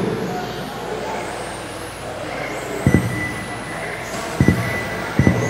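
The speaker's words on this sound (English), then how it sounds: "You can hear the tires squealing over here." Rubber-tyred 13.5 RC touring sedans racing on a track, with thin high tire squeals and motor whine from the passing cars and a few sharp thuds from close by, heard under a commentator's talk.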